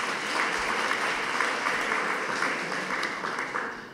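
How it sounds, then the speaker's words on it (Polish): Audience applause at a school year-end ceremony in Starachowice, a steady dense clapping from many hands holding evenly for the whole stretch with no voices over it. "Brawa dla Igora."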